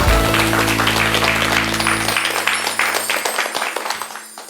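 Audience at a televised lecture on character education clapping, dense applause at first that thins into scattered claps and fades out near the end.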